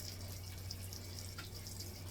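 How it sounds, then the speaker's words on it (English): Hot water drains from a pot of cooked corn into a sink, a faint steady trickling and pouring with light drips in a quiet kitchen. "let's get this water out of the corn"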